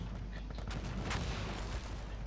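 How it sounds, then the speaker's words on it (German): Gunfire from a weapon in the video game DOOM during multiplayer play, a loud, dense burst of shots that fills the short span, close and without talk. "Ach, das ist ein Einzelschuss, wenn ich so mache hier."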